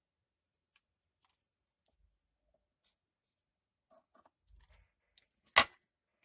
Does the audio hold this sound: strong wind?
no